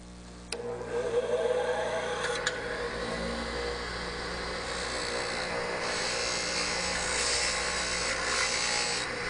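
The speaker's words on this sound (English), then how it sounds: "we will be sharpening the left-hand side of the parting tool tip" A grinder sharpens the left-hand side of a parting tool tip: a steady motor hum with an abrasive grinding hiss that builds after a sharp contact click near the start and then continues evenly, with no talking.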